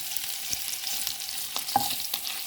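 Shrimp fry in butter and avocado oil in a pan, a close, steady sizzle with small crackles and pops throughout.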